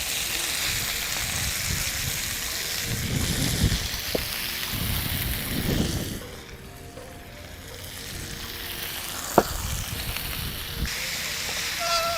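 Marinated chicken for Pallipalayam chicken fry sizzling steadily in a pan, a continuous close frying hiss with occasional stirring clatter, easing briefly midway before resuming.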